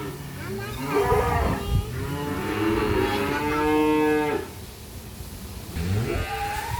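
Cattle moo loudly and repeatedly near a black calf on a rural farm, long drawn-out bellows overlapping one another, with a quieter call at the end.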